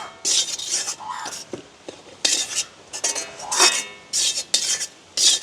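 A spoon stirs egg rice with a little salt in a pan in a village kitchen, giving repeated close, clattering scrapes in short bursts separated by brief pauses, with faint whispery sounds between strokes.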